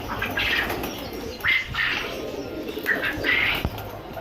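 A golden pigeon, a cross between golden and teddy breeds, coos softly in a breeding loft. The coos come in several short, repeated bursts over steady background noise, with a faint wing flap near the end.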